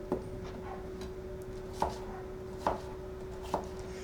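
Onions being chopped with a knife on a board, four distinct crisp chops spaced out at an uneven pace over a quiet background hum.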